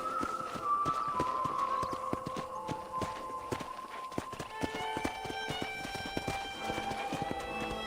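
Steady clip-clop of horse hooves at a walking pace in Red Dead Redemption, close and clear, with looping game music playing underneath.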